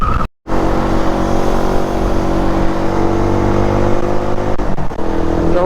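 A Raider motorcycle with a carburetor misfiring, its engine running loud and close with a rough, uneven drone after a brief cutout near the start, the revs stumbling irregularly.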